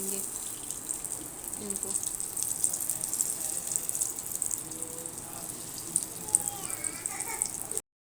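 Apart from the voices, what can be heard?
vegetable kebabs dropped into hot frying oil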